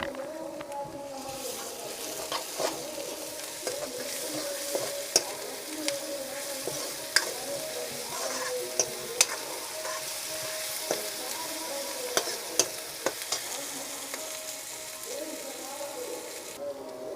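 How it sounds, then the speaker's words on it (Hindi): Garlic-ginger paste sizzles steadily in hot oil for a fish curry, with sharp scraping clicks of a spoon stirring the pan at irregular intervals throughout. "तो संगवारी हो, लहसुन अदरक के पेस्ट भी डाल देता हूँ।"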